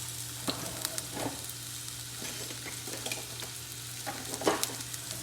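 Red onion and garlic frying together in a little oil in a pan, a continuous close sizzle broken by scattered spatula scrapes and stirring clicks, with no voices.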